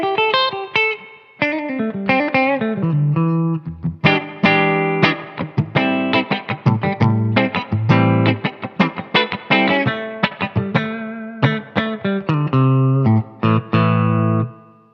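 Guitar played through a Simplifier MK2 amp on a clean setting and a clean pedalboard with only Flint reverb engaged, picking out a steady run of clean chords and single notes with a light reverb tail.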